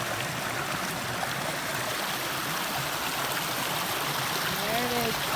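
Mountain stream water flowing steadily on a hiking trail, a continuous broad rushing wash that stays even throughout, with a brief voice or whistle-like tone near the end.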